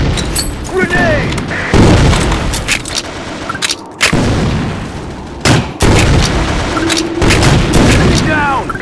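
Loud video-game combat, Sand Storm map: a series of sharp gunshots and booming blasts, including a grenade explosion, crack out one after another, with game voice callouts heard between them.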